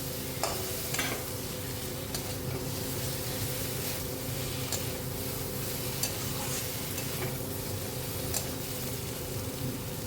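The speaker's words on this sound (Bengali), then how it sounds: "এবার আলু আর চিংড়ি মাছ একসাথে আর একটু কষিয়ে নিয়ে সামান্য গরম জল দেবো।" Prawns and fried potatoes sizzle steadily in a pan while a spatula stirs and scrapes through them, a constant dense hiss with occasional clinks.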